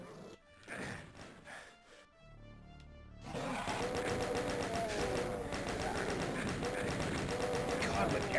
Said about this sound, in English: But I am going to get over there and shoot you.